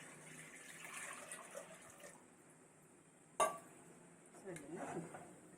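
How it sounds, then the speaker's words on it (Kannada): Water splashes and trickles into a metal vessel of lentils, with a sharp clink partway through and soft kitchen clatter around it. "ಬೇಳೆಗೆ ಹಾ ಒಂದು ನೀರು ಹಾಕ್ತಾ ಇದ್ದೀವಿ"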